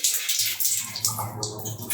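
Water runs from a leaking Ariston water heater in a steady trickling hiss, faint and close, with a low hum underneath.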